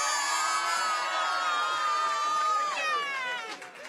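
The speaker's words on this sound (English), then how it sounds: "actually, let's give them all a cheer." A packed room at a Vermont Democrats event erupts in sustained cheering and whooping, with high shouts layered over a dense roar that eases off near the end.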